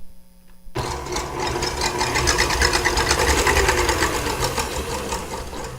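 Stand mixer with a whisk attachment beating egg whites at medium speed for macarons, starting abruptly and settling into a loud steady whirring drone with a rapid rhythmic clatter, close and continuous.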